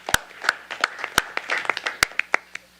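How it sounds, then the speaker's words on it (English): Sparse clapping at a Cedar Falls city council meeting: a few people clap close by, with sharp, separate hand claps in an uneven rhythm and no full roar of applause. "So I want to give a round of applause for that."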